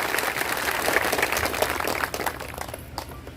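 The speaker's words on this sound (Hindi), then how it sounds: "बजाओ ताली माता फातिमा शेख के लिए।" Crowd clapping at an Azad Samaj Party political rally in Hardoi, dense applause heard from a distance that thins out toward the end.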